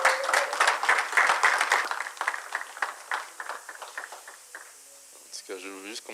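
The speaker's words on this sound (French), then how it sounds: "Est-ce qu'on peut applaudir le Seigneur pour encourager mon frère Aaron?" A church congregation applauds in a brief burst that thins out after a couple of seconds, giving way to murmured voices and a spoken word near the end.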